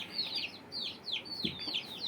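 A laying hen calls nearby in a quick series of high, short chirping notes, repeating several times with brief pauses in between.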